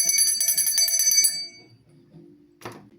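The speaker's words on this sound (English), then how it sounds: "I'm going to ring out the bell." A small bell is struck once, ringing bright and clear for about a second and a half before fading out, followed by quiet room sound and a soft thump.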